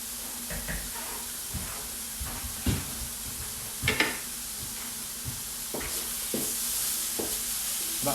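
Pork loin frying in a pan, a steady sizzle and hiss under irregular scraping and clattering stirring strokes, fairly close.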